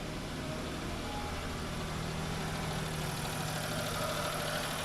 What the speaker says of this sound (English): so that's how my engine idles. That's the sound.